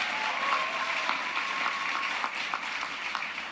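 A steady, even wash of applause fills a human rights awards ceremony, sustained and moderately loud throughout with no voices on top.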